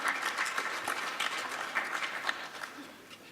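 A seated audience at a formal presentation on ICAO Circular 238 applauds as guests walk up, a dense, moderately loud wash of clapping that holds steady and thins slightly toward the end.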